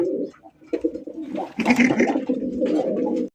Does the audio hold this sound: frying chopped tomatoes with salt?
no